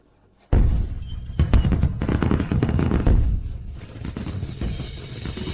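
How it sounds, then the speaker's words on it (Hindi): Fireworks burst suddenly after a brief quiet, then a dense, loud barrage of cracks and booms keeps going without any talk. "ये सुंदर आतिशबाजी है"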